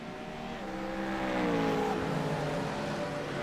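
Several GT3 race cars in a racing video game rev and accelerate together at a restart, engine notes climbing in overlapping rising tones, loud and continuous, with no talk over them.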